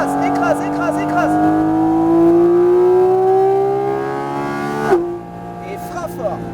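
Porsche GT4 RS accelerating at full throttle, its engine note climbing steadily and loud for several seconds before cutting off abruptly at a shift or lift, while a person talks over it.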